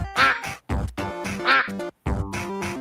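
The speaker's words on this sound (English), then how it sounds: "hedgehogs make a sound similar to quacking when stuck or trapped" Repeated quacking sounds from a Sonic video game, three or four loud, harmonic bursts in an uneven rhythm with short gaps between them, heard alone without any talking.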